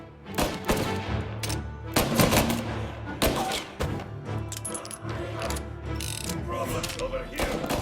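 Rapid gunfire rattles through a shootout in Mafia Definitive Edition, with dense bursts of shots and clattering impacts packed close together. Voices are audible underneath the shooting.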